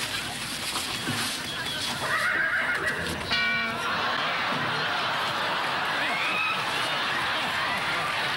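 A horse neighs loudly partway through, a shrill rising whinny over a busy background with people talking.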